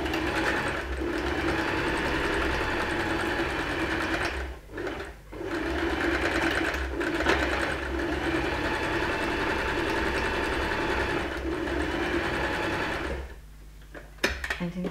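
A sewing machine stitches a buttonhole on a dress, a loud steady mechanical whir running close and continuous, briefly dipping near five seconds and stopping shortly before the end.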